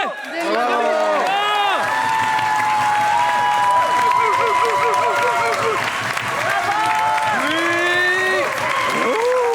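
Studio audience applauding and cheering on a comedy battle show with eight comedians, loud crowd clapping mixed with prominent whoops and tonal voices or music swelling over it, continuous for several seconds.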